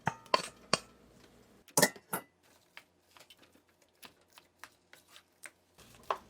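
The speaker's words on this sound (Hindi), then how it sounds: "दोबारा से मैशर के साथ इसे हम मैश करेंगे इस तरह से" Boiled potatoes being mashed with a hand masher in a pot alongside milk, giving scattered metallic clanks and soft squelching knocks at an irregular pace, close by with no talking.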